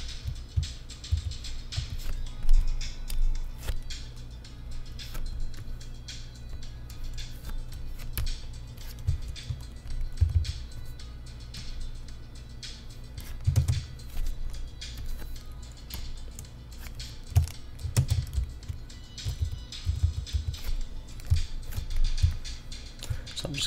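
Computer keyboard keys tapped in scattered bursts while modeling a high-poly barrel, with soft close clicks over a low steady hum and no voices.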